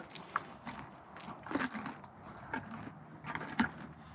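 A horse bites into and chews carrots, giving a series of crisp crunches and soft grinding sounds at close range, with a few louder bites standing out.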